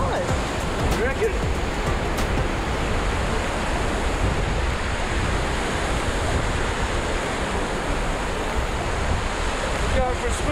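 Ocean waves at Moana Beach wash in a constant broad roar of surf with wind noise, steady and fairly loud throughout, with faint voices in the background.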